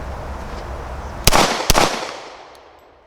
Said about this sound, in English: this will actually be the first shots I take with it right here